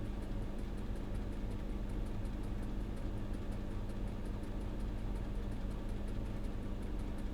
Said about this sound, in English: You can hear the compressor running